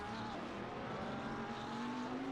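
A Porsche 992 race car in a racing video game at Laguna Seca, its engine holding a steady sustained whine that climbs gradually in pitch, moderately loud and unbroken over a dense background roar.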